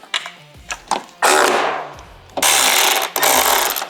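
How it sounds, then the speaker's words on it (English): Screws on a Harley-Davidson Street Glide speaker pod are tightened with a power driver, which whirs in two loud, sustained bursts between shorter mechanical clicks and taps, close up. "Now we'll simply tighten up those bottom screws."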